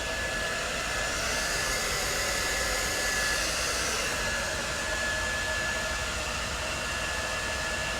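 A hair dryer blows steadily and loudly on a layered bob haircut, a continuous broad whoosh with no pauses for the full length.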